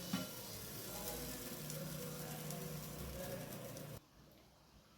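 Vegetable biryani sizzles and steams under a lid in a pan, a soft, steady frying hiss that runs evenly for about four seconds and then cuts off.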